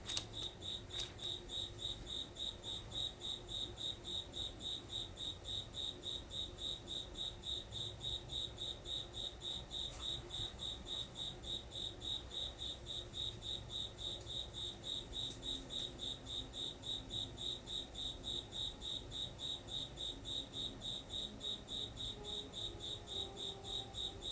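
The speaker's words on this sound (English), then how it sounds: "The cricket." Crickets chirp continuously in a steady, rapidly pulsing rhythm, a dense even drone with no voices over it.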